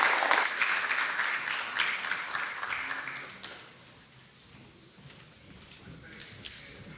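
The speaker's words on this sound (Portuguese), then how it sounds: "muito obrigado aos nossos oradores, para quem eu peço uma salva de palmas" An audience applauds the speakers at a public debate, a dense burst of clapping that thins and fades over several seconds into scattered claps.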